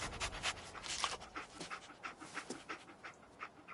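A dog in the Fallout 4 video game pants in quick, rhythmic breaths with faint whimpers, close and fairly quiet, with no talking over it.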